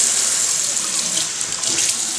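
Tap water running into a sink while hands are rinsed during a skincare routine, a loud, steady hissing splash close by with no talking.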